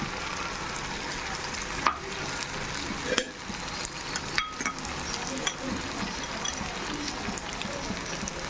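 Tomatoes cook in a pan of chicken and brinjal curry with a steady sizzle and bubbling, broken by a few sharp clinks and scrapes of a spoon against the pan.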